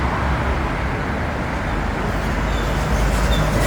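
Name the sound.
road traffic noise beside an expressway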